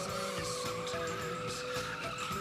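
A drifting car sliding at speed with tires skidding and squealing continuously, loud and close, the engine roaring underneath throughout with no voices.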